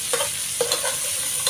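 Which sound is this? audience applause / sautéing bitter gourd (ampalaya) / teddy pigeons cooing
sautéing bitter gourd (ampalaya)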